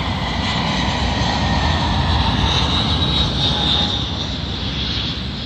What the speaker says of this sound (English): Arriving in now is a British Airways Airbus A319 working a service from